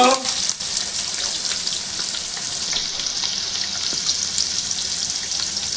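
Onions frying in a pan of hot oil with seeds for a bottle gourd and milk curry give a loud, constant, close sizzling hiss with no break.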